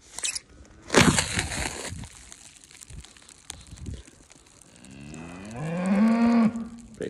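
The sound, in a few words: cows mooing on a farm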